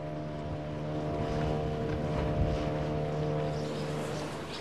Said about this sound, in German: Eigentlich nur ein ganz normaler Ausflugsdampfer.